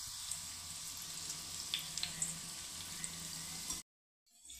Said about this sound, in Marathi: ही भजी आता आपल्याला असं आलटून पलटून आहे ना, असं 2 मिनिटं तळून घ्यायची चांगली.